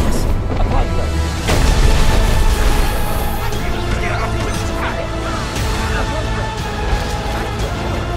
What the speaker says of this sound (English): Slam with Descendo.